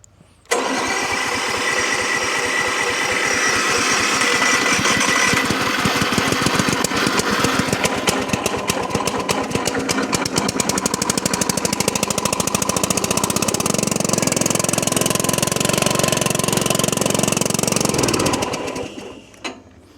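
The small gasoline engine of a remote-control lawn mower starts and runs loudly with a rapid, rattling putter for a long stretch, then cuts off near the end.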